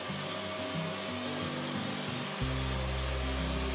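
A SwitchBot S10 robot vacuum runs at its maximum 6500 Pa suction with mopping on, giving a steady loud whir with stepped shifts in motor pitch as it works across the floor, no talking.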